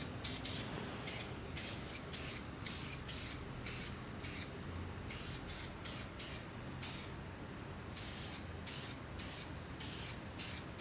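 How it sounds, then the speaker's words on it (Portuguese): Clear varnish sprayed in quick bursts onto hand-carved rustic wood, a steady close hiss broken by many short pauses, with no one talking. "Eu vou passar um spray rápido de verniz pra gente ver como é que fica e finalizarmos."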